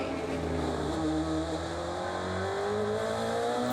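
DTM race car at Lausitzring during free practice, engine droning steadily and climbing in pitch as it accelerates through the gears toward sixth, a continuous loud roar with no talk.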